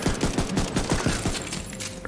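Rapid bursts of gunfire from the video game The Division 2, a steady string of evenly spaced shots at close range for most of the stretch, easing off toward the end.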